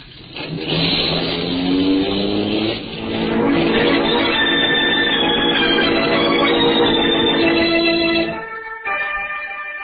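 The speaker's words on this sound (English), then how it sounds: "I stepped on the gas and drove off." A car engine revs hard and accelerates away, loud and close, the pitch climbing through several gear changes before cutting off near the end, with no voices.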